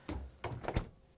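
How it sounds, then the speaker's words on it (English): Samsung refrigerator doors being pushed shut, three soft thunks in quick succession, close and moderately quiet, no voices. "Now that you have the basket in, we can close the doors"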